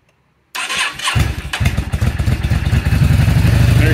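A 2009 Yamaha V-Star 650 Classic motorcycle fitted with a Hypercharger is cranked by its starter after a brief silence, then catches and settles into a loud, close, rumbling idle with no talking.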